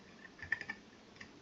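A command typed on a computer keyboard: a short, faint run of about five quick key taps close by, no voices.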